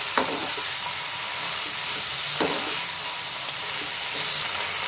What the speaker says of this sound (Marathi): आणि हे परत थोडंसं साते करणार आहे